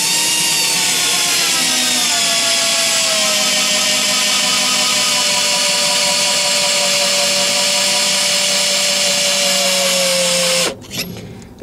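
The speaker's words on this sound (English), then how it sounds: "you turn the drill on and you hold this." A power drill driving a Lee rifle brass case trimmer whirs loudly and steadily for about ten seconds, its pitch sliding slightly lower under load as it cuts, then cuts off abruptly.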